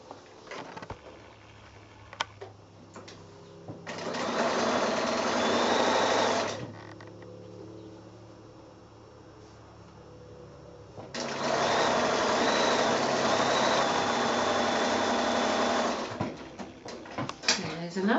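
Sewing machine stitching quilt block seams for a woodland patch quilt, running in two steady bursts of several seconds each with a pause between, close and fairly loud.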